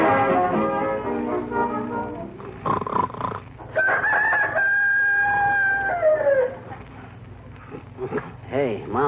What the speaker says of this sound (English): I just heard a rooster crowing.